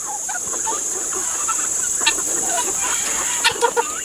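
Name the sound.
guinea fowl and chickens clucking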